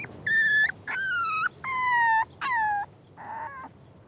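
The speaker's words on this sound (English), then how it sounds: "Otherwise, it'll know that by whining, it can get your attention." A dog whines for attention in four long, high, drawn-out cries with brief gaps, then a fainter fifth, close and loud with no one speaking.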